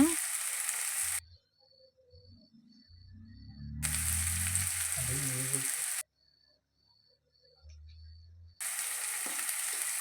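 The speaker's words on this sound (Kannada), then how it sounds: "ಈರುಳ್ಳಿ ಚೆನ್ನಾಗಿ ಫ್ರೈ ಮಾಡ್ಕೋಬೇಕು ಈರುಳ್ಳಿ ಹಾಕೋಣ" Onions frying in a pan after mustard seeds, giving bright, hissing sizzle in three separate stretches with quiet gaps between them, where a low murmur of talk can be heard.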